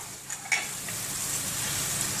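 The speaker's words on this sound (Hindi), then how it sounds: "ये देखिए हम चलाएंगे ताकि इसमें जो मसाला है सारी भिंडियों में शामिल हो जाए" Okra and chilies being stirred in a frying spice masala, a few quick utensil scrapes and a light clink near the start, then an even, continuous sizzle close by.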